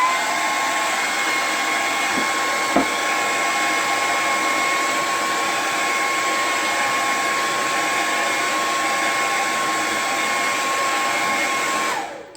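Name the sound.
hair dryer drying painted wood sign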